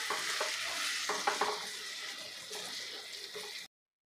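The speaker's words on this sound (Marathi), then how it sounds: "आपल्याला मंद गॅसवर घट्ट गोळा होईपर्यंत हे परतून घ्यायचं आहे" A breakfast mixture is stirred and sautéed in a pan on low heat, producing a soft, steady sizzle with a cluster of scraping stirring strokes early on before it cuts off abruptly.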